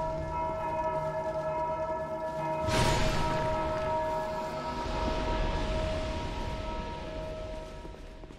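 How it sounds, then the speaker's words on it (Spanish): Bells ring in the Dark Souls II: Scholar of the First Sin game, sustained ringing tones joined partway through by a sudden broad rushing swell that slowly fades. "Suenan las campanas."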